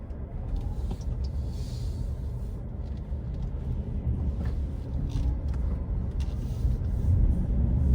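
Steady road traffic near Loretto and Colgan, with cars rolling past in a continuous low rumble that thickens toward the end, no voices.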